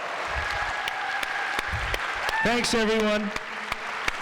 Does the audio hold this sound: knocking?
no